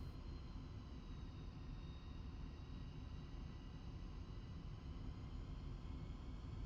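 Su-25T jet in the DCS flight game taxiing off the runway, a steady low engine rumble and broadband roar with a faint thin whine above it, continuous and moderately quiet throughout.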